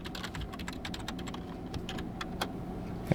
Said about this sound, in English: enter the email address at the top and the password at the bottom